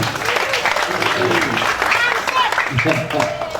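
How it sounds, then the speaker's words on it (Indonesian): Audience applauding for the police at a talk, a steady wash of many hands clapping with voices and a speaker's talk layered over it. "Tepuk tangan dulu buat polisi"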